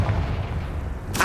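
A single heavy blast from the Confringo spell in a Harry Potter video game, a deep booming burst that rumbles briefly before a sharp crack at the end.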